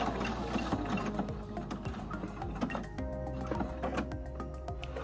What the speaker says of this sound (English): we're just going to backstitch the same way we did on the others. Typical backstitch.